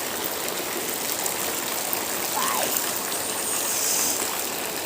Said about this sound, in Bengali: বৃষ্টি, শুধু বৃষ্টি, একটু কমছে একটু বাড়ছে